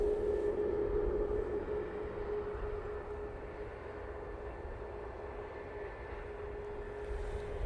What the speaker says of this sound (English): Ryanair on the other side, making its way down to the bottom.